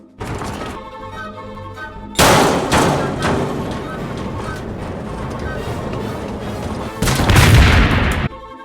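Explosions in a mine tour exhibit: heavy booming blasts and rumbling thuds, loud and close, with two sharp bursts and a sustained roar between them.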